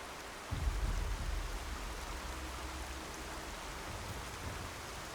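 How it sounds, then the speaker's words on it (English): Steady hiss of rainfall in the video game Horizon Zero Dawn, soft and even throughout, with a low rumble swelling briefly near the start. "Oh, it's starting to rain."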